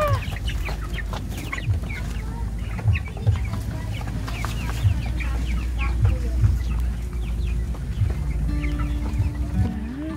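Several chickens cluck close by, overlapping clucks and short calls over a busy barnyard background.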